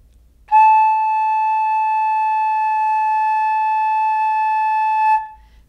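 A flute holding one long steady note with a clean, even tone for about four and a half seconds, starting firmly and cutting off cleanly, alone in a quiet room.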